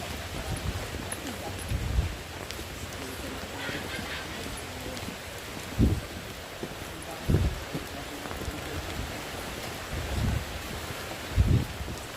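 Light, steady rain patters outdoors with a soft continuous hiss, joined by a few scattered dull thumps and faint background voices.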